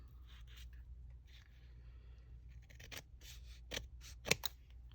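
Scissors snip through paper in a crafting session, a few faint close cuts at first, then sharper, louder snips near the end in a quiet room.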